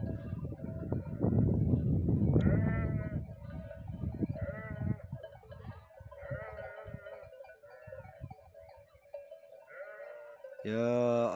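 Sheep bleat repeatedly at middle distance, several overlapping calls, with rustling wind and movement early on and a loud close bleat at the end.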